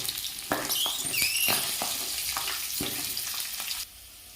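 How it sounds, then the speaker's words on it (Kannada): Urad and moong dal frying in hot oil in a pan, a close, bright sizzle broken by sharp pops and spatters, with a softer hiss trailing off at the end. "ಮೊದಲಿಗೆ ಬಾಣಲೆಯಲ್ಲಿ ಎಣ್ಣೆ ಬಿಸಿ ಮಾಡಲಿಕ್ಕೆ ಇಟ್ಟು ಅದಕ್ಕೆ ಉದ್ದಿನಬೇಳೆ ಮತ್ತು ಹೆಸರುಬೇಳೆಯನ್ನು ಸೇರಿಸ್ತಿದ್ದೇನೆ"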